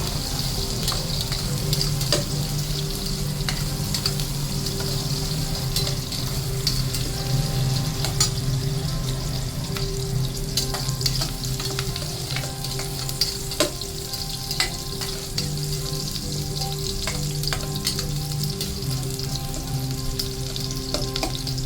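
Onions sizzling in a cooking pot for papaitan, a dense, steady frying hiss throughout with occasional stirring clicks, close and continuous with no talking.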